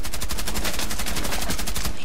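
Rapid bursts of automatic gunfire in Rainbow Six Siege, loud and close, with sharp shots repeating in a fast, even rhythm for about two seconds before stopping.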